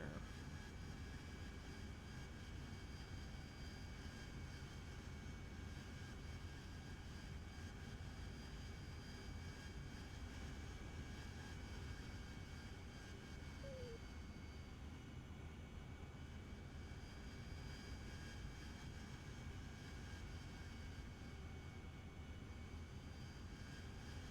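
Harrier jet on short final for landing at a military airfield runway at night, a steady, continuous distant engine roar with faint tonal whine, unbroken throughout with no talk.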